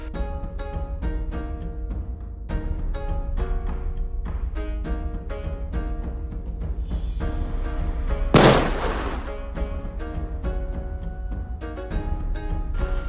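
A single sharp matchlock musket shot bursts out partway through, loud and brief, set against continuous melodic background music with no other firing.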